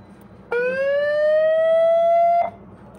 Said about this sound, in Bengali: এই যে মোশন ম্যানুয়াল অ্যালার্ম